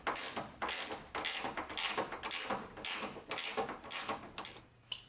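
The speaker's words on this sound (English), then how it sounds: "let's tighten this down and see" Close, quiet ratcheting as a wrench tightens bolts on the door hinge of a third-generation Camaro, heard as a steady run of rapid clicking strokes with no talking.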